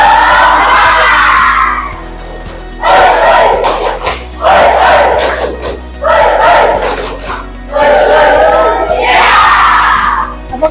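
Schoolchildren in a classroom shout a loud, rhythmic clapping cheer together, with the group voices coming in repeated bursts separated by short pauses, close and energetic.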